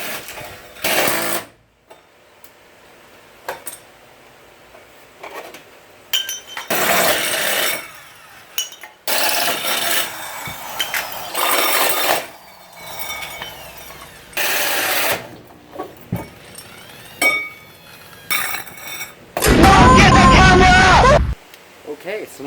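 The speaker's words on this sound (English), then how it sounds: "cutting speed holes in my bumper so I can have more cooling power" Power tool cutting speed holes into a drift truck's bumper, heard close up as loud, harsh bursts of a few seconds each separated by short pauses, the final burst the longest and most intense.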